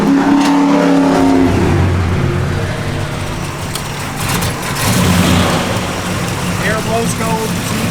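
A 1971 Chevrolet Chevelle SS V8 with a mild cam runs close by, a loud rough engine roar that rises and falls slightly across the clip.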